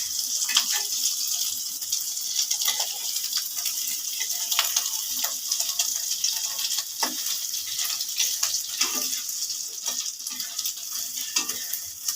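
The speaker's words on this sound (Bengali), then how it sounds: "ডিমটা এখন আমি পোড়া পোড়া করে ভেজে নেব" An egg frying in a pan until well browned, giving a steady, close hiss of sizzling oil with small crackles and occasional scrapes throughout.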